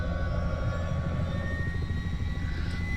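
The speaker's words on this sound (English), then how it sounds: "So we started the engines." H-60 helicopter engines starting up in Flight Simulator 2020, a loud steady turbine whine and rotor drone with a rising tone, filling the stretch alone with no talk.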